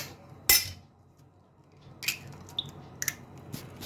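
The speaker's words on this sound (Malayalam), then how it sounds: "ഓക്കെ ഗൈസ്, അപ്പോൾ മുട്ട പൊട്ടിക്കുവാണ്." Eggs being cracked against a bowl to make an omelette: a sharp knock followed by several lighter taps and clinks at close range, with quiet kitchen gaps between them.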